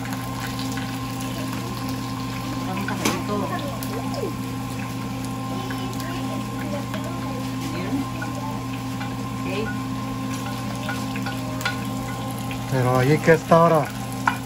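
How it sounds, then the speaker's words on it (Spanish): Mole ingredients such as plantain, onion, garlic, cinnamon, pepper, cloves and raisins frying in a pot, a steady loud sizzle throughout, with someone speaking briefly near the end. "Vamos a poner todo adentro para cocinarlo, freírlo."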